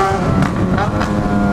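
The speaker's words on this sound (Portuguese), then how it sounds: "Olha esse pipoqueiro de escape" Yamaha XJ6 motorcycle exhaust revving hard with popping and crackling, a loud continuous engine roar with repeated crackle bursts, close by.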